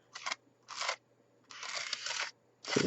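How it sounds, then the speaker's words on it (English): A credit card scrapes paint layers across a journal page in four separate raspy strokes, with short gaps between them and the third stroke the longest. The scraping is close and clear. "Scrape that in"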